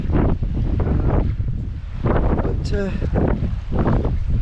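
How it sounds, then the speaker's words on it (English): Strong gusts of wind roar against the microphone in surges on an open stony walking route around Loch an Eoin, with a person speaking briefly between them. "very windy indeed."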